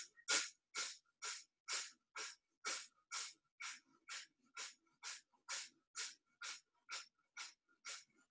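About seventeen sharp, forceful nasal exhales of skull shining yoga breathing, evenly paced roughly twice per second, close and clear with no talking.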